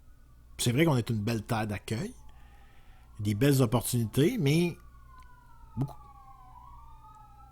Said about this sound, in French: Désolé pour la sirène, mon studio n'est pas insonorisé du tout.